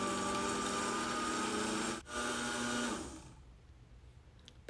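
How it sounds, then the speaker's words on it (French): Food processor blending pumpkin pie filling with honey, a loud steady motor whir with a brief dip partway, then stopping and leaving quiet room tone before a small clunk, with no talking. "je mets en marche le robot pour bien mixer le mélange environ 30 secondes"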